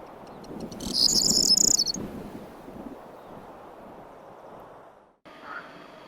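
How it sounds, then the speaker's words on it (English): A corn bunting on Lesvos gives a short, bright, jangling song phrase that is clear and fairly close, over a soft bed of wind and insect hiss, with a brief second call near the end. "It's a corn bunting, a common bird here, but new to me"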